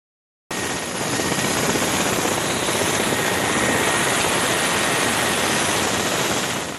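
A helicopter flies close and loud during a snowstorm evacuation of stranded travellers in Kazakhstan's Abai region, its rotor and turbine roar steady and unbroken throughout.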